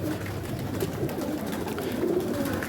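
Pigeons kept as breeding pairs coo softly and steadily, a low murmuring chorus close by with no talk.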